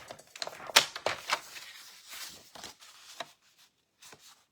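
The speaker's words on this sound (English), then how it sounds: "So I still need to trim this side" Cardstock being trimmed on a paper trimmer for a handmade card, a few quiet close slicing and clicking strokes in short bursts, then near silence.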